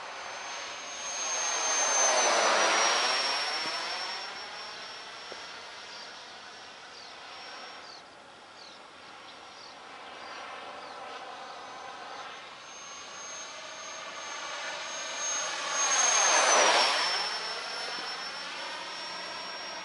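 A 70mm EDF radio-controlled biplane jet flies outdoors, its whining ducted-fan roar swelling loud on two close passes and fading to a distant hum in between.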